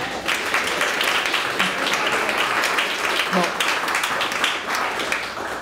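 An audience at an award ceremony for the 2024 Relève prize applauds its recipient, steady sustained clapping from a crowd filling the room throughout, with a voice briefly speaking over it.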